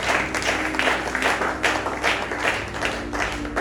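A church congregation applauds the Lord, a dense, steady roar of many hands clapping together with gentle swells, filling the room at close range with little talk over it.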